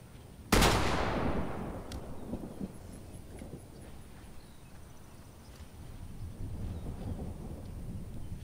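A single sharp, loud blast of Fortnite gunfire cracks out near the start, followed by a long fading rumble and faint scattered shots in the background, with no talking.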